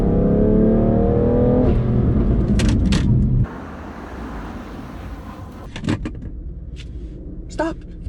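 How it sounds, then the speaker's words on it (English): A BMW F80 M3 Competition accelerates hard, its engine note climbing loud and close before cutting off abruptly as the car slows for a brake test. Quieter road and wind noise follow, with a few brief knocks and clicks. "So let's actually do a little brake test right now."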